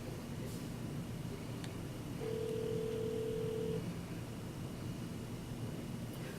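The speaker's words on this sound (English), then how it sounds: "dial the number or extension of the first person for your call" A key press on a Hi Country Wire and Telephone 400 series business phone in speakerphone mode gives a single steady electronic tone lasting over a second, set against a constant hiss of background noise.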